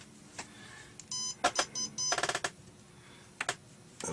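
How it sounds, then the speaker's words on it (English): A continuity tester checks a micro switch on a refurbished Flashfire joystick, giving several short electronic beeps and a sustained tone in uneven bursts, close and clear against a quiet room. "Get the old continuity tester"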